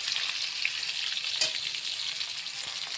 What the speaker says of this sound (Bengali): টমেটোটা দিয়ে একটু নাড়াচাড়া করে একটু লবণ দিয়ে দেবো